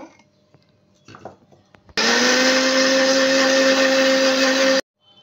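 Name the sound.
blender blending oil into mayonnaise sauce for chicken shawarma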